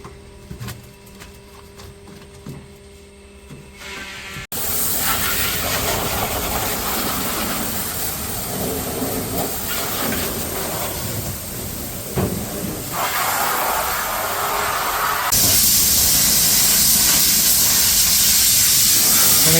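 A loud, steady blast of compressed air hisses continuously after a quieter opening, surging stronger near the end.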